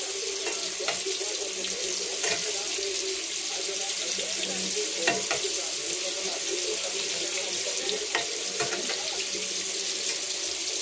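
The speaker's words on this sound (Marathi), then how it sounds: "हे अशा प्रकारे आपण सगळे कारले मी हे केले पलटी." Bitter gourd pieces frying in a pan after being flipped, a steady soft hiss with occasional clicks and scrapes throughout.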